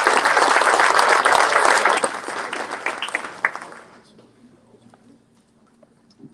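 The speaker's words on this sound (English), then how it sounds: "Give a big round of applause." Big round of applause from a summit audience welcoming two speakers, dense and loud for about three seconds before thinning to a few last claps and fading into quiet room noise.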